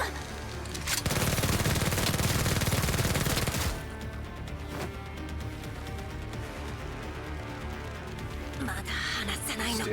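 Automatic gunfire in the game Girls Frontline 2, a loud sustained burst of rapid shots lasting a few seconds, followed by scattered quieter shots and battle noise while voices talk.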